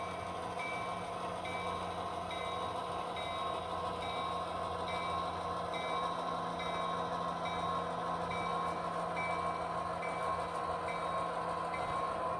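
An HO-scale model train pushes a string of railcars, including a tanker and hopper, along straight layout track, giving a steady low rumbling hum with faint repeating electronic beeps throughout, close and continuous with no talking.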